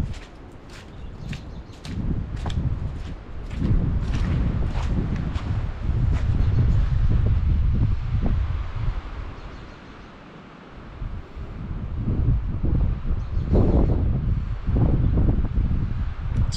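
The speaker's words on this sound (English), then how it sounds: "It's a lot windier over here than it was along the tree line." Wind blowing across an open area near a tree line, buffeting the microphone in loud rumbling gusts that rise and fall, with faint rustling and scattered small knocks, no talking.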